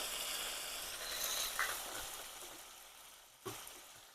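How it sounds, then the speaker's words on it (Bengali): Ginger paste and garlic paste sizzle in a pan with browned onions and chillies, a soft close frying hiss that fades slightly, broken by a couple of small clinks. "দিয়ে দিচ্ছি আদা বাটা রসুন বাটা"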